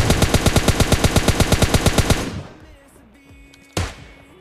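An M4 rifle fires a rapid automatic spray in PUBG Mobile Lite, about twenty loud evenly spaced shots for two seconds, then fading echoes and one last sharp report.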